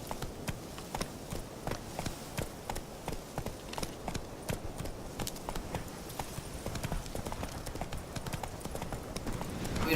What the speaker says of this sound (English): Mentre tu galoppi o corri come un disperato col cavallo